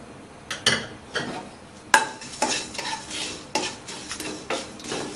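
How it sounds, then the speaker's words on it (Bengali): Ground coriander and cumin being stirred in a pan for a raw mango pickle, with a spoon scraping in repeated clinks and scrapes under a soft sizzle, close and fairly clear, with no voices. "ভালো করে নাড়তে হবে"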